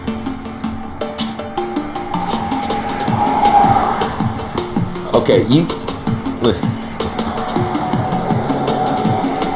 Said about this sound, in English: All these cars that you hear